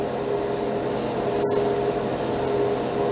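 An aerosol spray can hisses steadily and loudly, close by, coating a silver spoon in one continuous burst with a very brief dip partway through.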